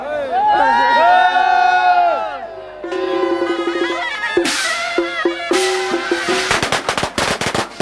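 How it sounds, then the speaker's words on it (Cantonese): A crowd at the 2000 Taiping Qingjiao village festival in Fanling, Hong Kong, cheers and shouts loudly up close. Sharp cracking bursts, like firecrackers, break in toward the end. "現場一片歡呼聲，非常之熱鬧。"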